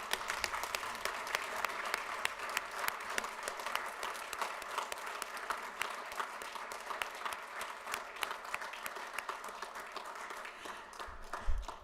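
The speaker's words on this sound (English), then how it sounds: "Please join me in a round of applause." Sustained applause fills a county commissioners meeting room, many hands clapping evenly at a steady level for the full stretch.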